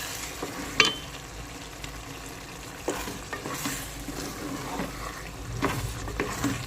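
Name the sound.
food cooking and sizzling in a pot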